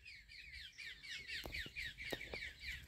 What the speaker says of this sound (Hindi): और चिड़ियों का आप मधुर संगीत सुने